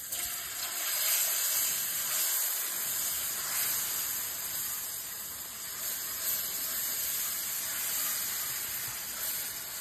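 Flour cooks in sausage grease in a skillet for gravy, giving a continuous soft sizzling hiss at moderate, even loudness with no talk over it.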